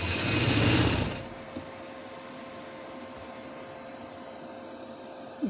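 A sewing machine runs briefly while stitching a double-layer frill summer frock, a loud one-second whir that stops abruptly and leaves quiet room tone with a couple of soft clicks.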